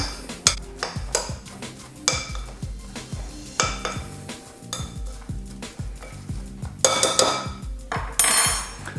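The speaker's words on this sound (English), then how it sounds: "So all we want to do is just mix them together, mix them all until they're nice and mixed in." A spoon clatters and scrapes around a bowl while dry ingredients for no-bake chocolate brownie protein bars are mixed, with repeated close, uneven knocks and clinks throughout.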